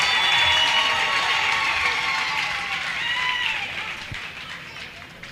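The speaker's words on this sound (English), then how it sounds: "Give her another round of applause." A graduation audience at a college ceremony in Bloemfontein claps and cheers loudly, with a dense crowd roar that gradually fades toward the end.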